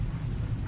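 Steady rain with a low thunder rumble, a continuous dense wash that holds evenly through the short stretch with no voices.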